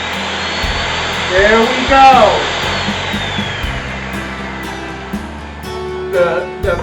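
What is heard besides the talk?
Ninja blender crushing cookies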